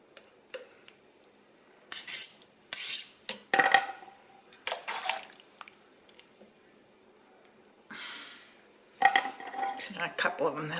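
Dumplings stuck together in a crockpot of chicken and dumplings being cut apart with a utensil, giving intermittent soft squishes and scrapes against the pot, a few separate bursts with quiet gaps between.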